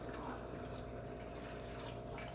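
Hot water pours steadily into a pitcher for Southern sweet tea, a soft continuous splashing stream at close range with a low hum beneath, no talking.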